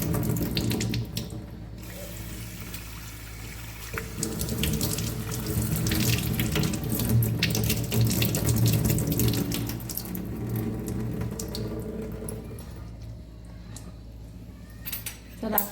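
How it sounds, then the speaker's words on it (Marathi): Tap water runs steadily into a kitchen sink as cleaned prawns are rinsed under it, with occasional clinks of a utensil in the basin throughout. "मी आता स्वच्छ पाण्याने धुवून घेणार आहे"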